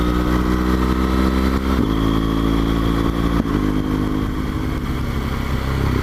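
BMW R1200GS motorcycle ridden on a quiet winter road, its engine droning loud and steady with a couple of brief shifts in pitch as the throttle changes, no voices.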